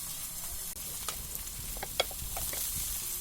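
Oil sizzles steadily in a hot pan, a continuous bright hiss with scattered small pops and crackles throughout, close and alone with no talking.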